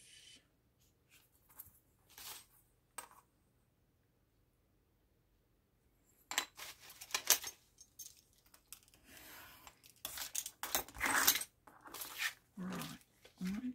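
Paper being cut for a double pocket bag booklet, a few soft snips and rustles early on, then a busier stretch of close, crisp cutting and handling noises in bursts.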